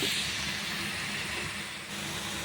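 Cabbage, carrot and beans sautéing in a pan for a ridge gourd vegetable koottu, a soft continuous hiss of cooking that stays even and fairly quiet from start to finish.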